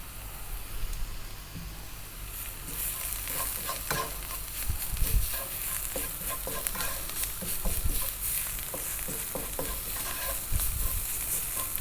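Garlic, salt, pepper and allspice sizzle in a hot pan while being stirred, a steady frying hiss broken by repeated scraping and clattering stirs of a utensil, close and fairly loud, with no talking.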